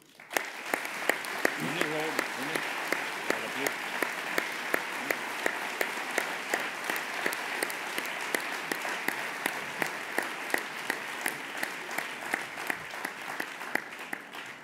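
Audience at an inaugural history lecture applauds in a sustained, even round of clapping from many hands, steady and fairly loud, with a voice briefly heard near the start.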